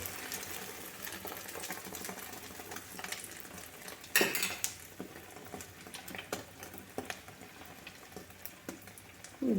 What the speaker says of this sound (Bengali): ডিমটা ভেজে